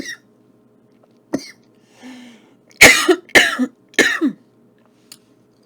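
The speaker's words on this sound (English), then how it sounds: "I just got a little tickle in my throat there" Several sharp, loud coughs from a man tasting smoky beef jerky, coming in a quick cluster of three after a few softer throat noises, close to the microphone with no talking.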